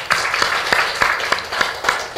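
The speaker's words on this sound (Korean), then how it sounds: "큰 박수 부탁드리겠습니다." Audience at a televised panel discussion on making Daejeon a patent hub city, giving a short round of applause; individual claps stand out sharply and spaced apart over a softer background of clapping.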